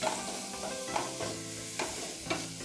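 Onions fry in a pan with a quiet, steady sizzle while a spoon stirs them in a few distinct scraping strokes, close up and fairly faint, with no one talking.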